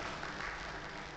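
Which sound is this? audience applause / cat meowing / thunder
audience applause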